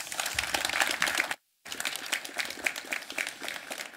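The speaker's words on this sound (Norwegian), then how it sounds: "Gi han en applaus." Lively audience clapping at a Norwegian preparedness event as a speaker takes the stage, dense and crisp, broken by a brief dead-silent gap before resuming.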